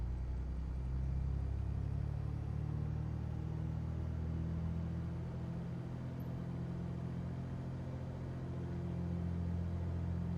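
Piper PA28R-201T Turbo Arrow engine held at 1500 RPM in a flight simulator, a steady low droning rumble that swells slightly and continues evenly throughout with no talking.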